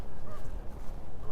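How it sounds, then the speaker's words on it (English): Geese honk near a road during a walk around a lake in Regina, loud and close against steady outdoor background noise. "Oh, geese crossing the road up ahead of us."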